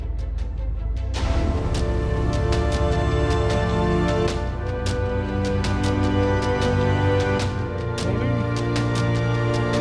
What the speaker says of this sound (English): It's the sound of the engines reverberating through the tunnel itself.